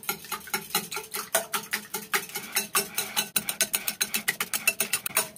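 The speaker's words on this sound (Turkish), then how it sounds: "Güzelce çırpıyoruz yumurtaları." Eggs with a pinch of salt and black pepper are whisked briskly in a bowl, a steady run of quick, close clinking taps against the sides with no talking.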